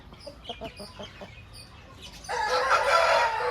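A rooster crows loudly and close after a run of short clucks, its drawn-out call filling the last second and a half.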